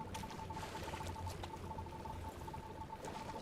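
Salt water is poured in the survival video game Once Human. A soft, continuous rushing pour runs steadily for a few seconds, faint and alone, with a thin steady tone behind it.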